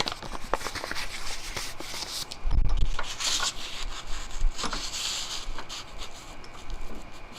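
A metal serving spoon being sanded by hand with 600 grit sandpaper gives repeated rubbing strokes, a steady scratchy rasp with one heavier thump partway through, close and alone.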